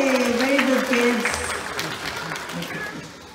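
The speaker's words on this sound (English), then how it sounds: "Give yourself a round of applause." Children at a school moving-up ceremony applaud, a loud dense burst of clapping with crowd noise, following an adult's voice at the start and fading gradually.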